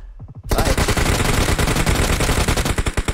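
Rapid automatic gunfire in a video game erupts after a short quiet opening, a loud, steady stream of sharp shots continuing to the end.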